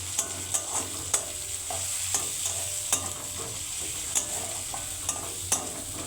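Chopped onions fry in a little oil in a kadai wok, giving a steady close sizzle with regular sharp clicks and scrapes as a spatula stirs them, about a dozen strokes spread unevenly through the stretch.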